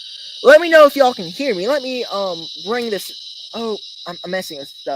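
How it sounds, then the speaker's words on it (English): Crickets chirp in a steady, high, continuous trill behind a person talking close to the mic, in a beekeeping setting. "you can hear the crickets in the background"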